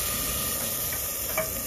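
Ground turmeric, chili, cumin and coriander powders frying in a pan over lightly fried whole spices for chicken kosha, a steady close sizzle with soft stirring scrapes throughout, no voices.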